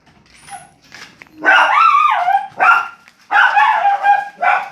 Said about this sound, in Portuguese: Esses cachorros latem não dá, sabe, pra filmar nada, porque eles latem demais